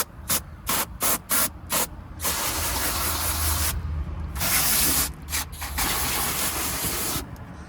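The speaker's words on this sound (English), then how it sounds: "I'm gonna grab the garden hose and see all those like areas with the salt" A garden hose sprays water onto a salt-crusted car at close range. The hissing comes in short bursts at first, then longer steady sprays with brief pauses, and nobody speaks.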